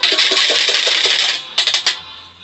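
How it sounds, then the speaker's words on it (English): A whisk scrapes and beats briskly against the sides of a 4-cup measuring cup, mixing warm milk with yogurt starter; close, dense rhythmic swishing that settles into a few separate strokes near the end. "Whisk it good together."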